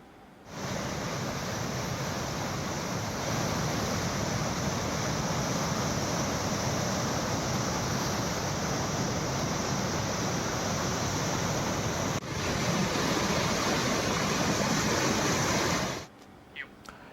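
Floodwater pours through eight lifted dam gates at the Jurala project, a dense, steady, loud roar that holds unbroken for about fifteen seconds before cutting off.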